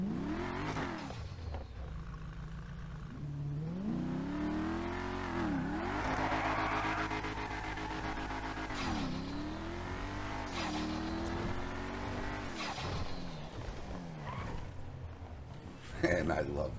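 A modded car in GTA 5 revs hard through repeated rising and falling engine sweeps, with exhaust crackles and pops between pulls, loud and close, under a voice.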